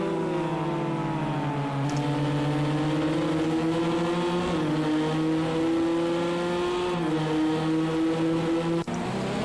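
LMP2 prototype race car engines at Spa-Francorchamps in Project CARS 2, a loud sustained high-revving drone with pitch rising and dropping through gear changes, several cars overlapping.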